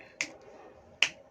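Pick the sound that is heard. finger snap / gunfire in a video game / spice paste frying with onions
finger snap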